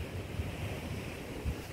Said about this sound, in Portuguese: Até o vento é mais forte aqui